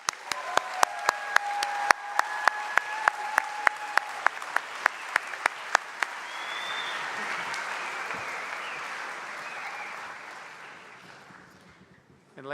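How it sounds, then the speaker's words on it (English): Audience at the TMI Class of 2017 graduation claps in a sharp, steady rhythm for about six seconds, then the sound loosens into a broad wash of crowd applause that slowly fades. "Let's all give them all another round of applause."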